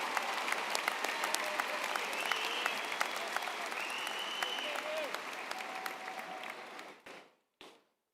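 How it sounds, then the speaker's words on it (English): A crowd at a high school commencement ceremony applauds for roughly seven seconds, a broad steady wash of clapping with scattered cheers, before it cuts off abruptly. "I think we should also give Mr. Skillett a round of applause because of all those names"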